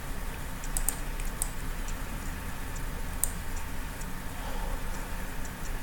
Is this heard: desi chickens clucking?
no